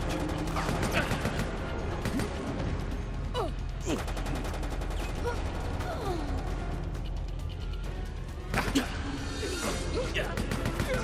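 A grenade blast amid a chaotic firefight in Resident Evil Operation Raccoon City, with dense gunfire, crashes and impacts throughout, a loud burst standing out near the end, and voices talking underneath.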